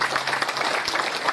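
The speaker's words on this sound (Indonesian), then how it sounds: "Tepuk tangan." Brief burst of applause from an audience at a religious lecture on student etiquette, dense hand clapping filling the short moment at steady volume.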